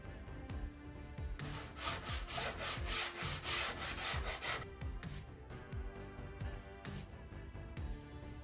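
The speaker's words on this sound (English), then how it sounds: "Alright, on to sanding." Wood being hand-sanded in a workshop, rhythmic scraping strokes of varying speed, with a quicker burst of rubbing in the middle, close and fairly quiet.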